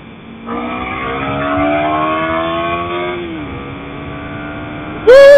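A Kawasaki Ninja Mono RR single-cylinder motorcycle pulls away on a test ride. The engine note climbs steadily through a long run, eases off, then flares sharply at the end. It is steady and fairly loud, with no voices over it.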